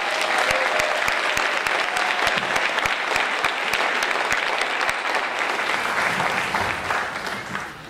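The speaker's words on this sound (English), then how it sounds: "Let's give another big round of applause for the percussion class." A school spring band concert audience gives loud, sustained applause for the percussion class. The dense clapping is punctuated by sharp individual claps and fades slightly toward the end.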